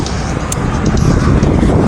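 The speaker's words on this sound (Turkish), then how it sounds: "o kadar fazla araba geçiyor ve rüzgar var" Cars rush past on a busy street on a windy day, a loud, continuous roar of traffic and wind buffeting close by.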